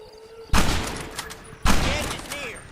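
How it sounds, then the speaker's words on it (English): Two loud bolt-action rifle gunshots in the Red Dead Redemption video game, sharp close blasts about a second apart, each trailing into a decaying echo, with faint background sound between. "Now let's go ahead and shoot this guy."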